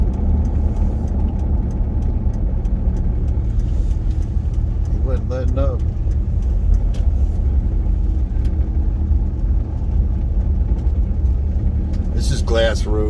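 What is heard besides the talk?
truck engine driving on a snowy mountain road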